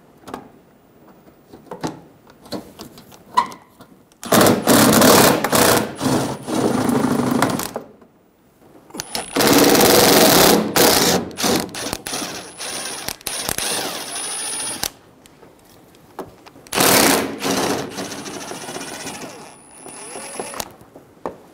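A power tool removes the driver's-side bumper bolts on a 2000-2007 Ford Focus front bumper cover, with three separate mechanical whirring bursts of a few seconds each, close and fairly loud, with quiet gaps between them.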